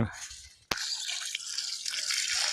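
Water is poured onto a newly planted mango sapling in farm soil. A sharp splash starts a steady, close stream of splashing and trickling that continues to the end, with no voices.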